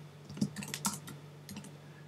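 A computer keyboard is typed on in a few quick, light keystrokes, faint and close, with no talk.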